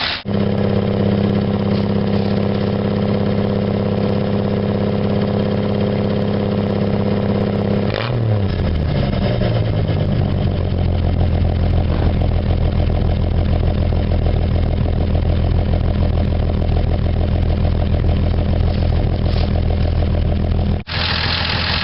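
A car engine idling as it warms up, a steady close low rumble that shifts pitch briefly partway through and then settles into an even drone.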